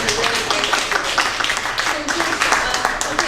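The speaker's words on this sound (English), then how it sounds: "round of applause for that" An audience at an evening community gathering breaks into sustained clapping, dense and moderately loud, ringing on steadily for the full few seconds.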